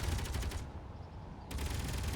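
Automatic turret gunfire in the space game Space Engineers, dense rapid bursts filling the clip with a brief lull in the middle, loud and close, no talking.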